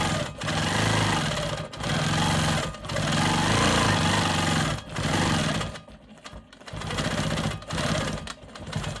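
A sewing machine stitches a quilt block in loud, steady runs of rapid mechanical whirring, stopping briefly between bursts and ending in short, choppy spurts.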